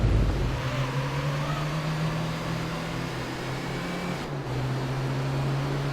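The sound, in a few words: Toyota Vitz/Yaris R engine over-revving in video game Gran Turismo 3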